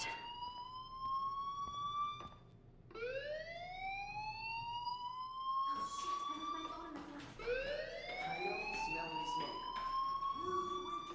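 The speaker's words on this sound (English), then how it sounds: "do you hear that fire alarm?" A fire alarm rings inside a school in the game Life Is Strange, its electronic tone rising in repeated swooping pulses, fairly loud and persistent across the span, with some background noise beneath.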